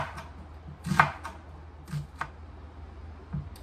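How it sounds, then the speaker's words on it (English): Onion being sliced on a board for a Guyanese fish curry, heard as a few sparse, close knife chops spread unevenly over a quiet kitchen background. "I'm going to slice half of it and I'm going to grate half of it onto the fish"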